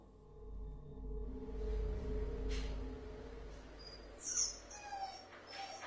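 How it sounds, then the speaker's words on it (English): Soft, high-pitched whimpering whines from a dog, a few brief cries rising near the end over a low background hum. "I hate when I hear the dogs whimpering"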